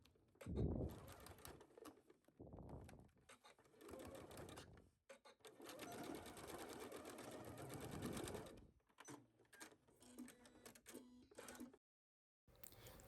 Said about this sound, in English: Stitch down the short sides at 5/8 of an inch seam allowance at your sewing machine.